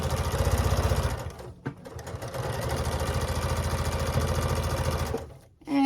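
A sewing machine stitches a raw-edge fusible applique on a quilt, its rapid motor hum and needle chatter running steadily up close, with a brief pause near the middle and a slowdown at the end.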